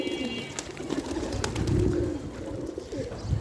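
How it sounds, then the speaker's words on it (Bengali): Pigeons on a rooftop coo softly and steadily at close range, with a few light taps and rustles mixed in. "আজকে আমার ছাদের কবুতরগুলো আবারও ভিডিও করলাম।"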